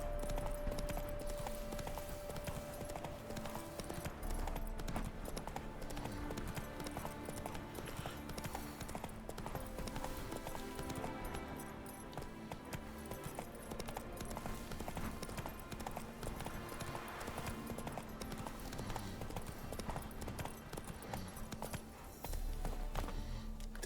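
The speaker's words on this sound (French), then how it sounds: "Ah, des chevaux sauvages." Steady clip-clop of wild horses' hooves in the video game The Witcher 3, a continuous rhythmic trot running under a dense layer of game music and ambience.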